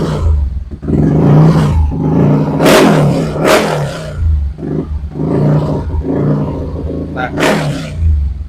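Exhaust of a Yamaha Mio J scooter with a 170cc bore-up and stroke-up engine, revved in loud, throaty bursts that rise and fall, close up, with a brief spoken word at the start.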